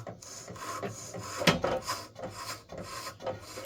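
Sandpaper rasps steadily against the spinning armature of a Dewalt chop saw motor, in repeated close scratchy strokes with no talking.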